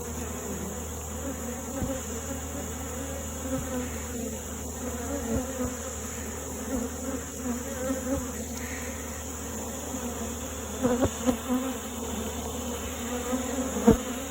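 Honey bees buzz steadily around a hive being helped at a flea market, a dense continuous drone with a few louder passes close by, no talking.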